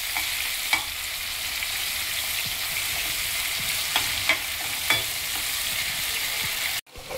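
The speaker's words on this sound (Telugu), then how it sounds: "ఉల్లిపాయ, టమాటా, పచ్చిమిరపకాయ అన్నీ ఒకేసారి వేసుకోవాలి" Onion, tomato and green chilli fry together in a hot pan, a steady close sizzle broken by a few sharp stirring clicks from a spoon, ending abruptly.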